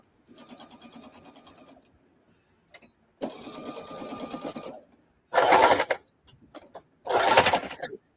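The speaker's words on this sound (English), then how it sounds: "Even though I'm going to double sew this, I'm still going to back tack it." A sewing machine stitches fabric for a fiber art tote, running in several separate bursts of rapid mechanical whirring with short pauses between them, the final two runs louder and faster; up close, no talk.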